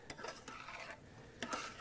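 Garlic stirred in a pan on the stove, the spoon scraping and clinking against the metal in a few quick bursts, with a faint sizzle underneath; no one speaks.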